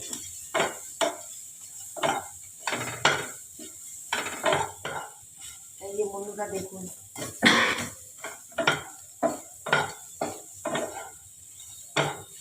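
Onions fry in a pan for mutton paya soup while a utensil repeatedly scrapes and knocks against the metal in a steady rhythm, with a voice speaking briefly in the middle.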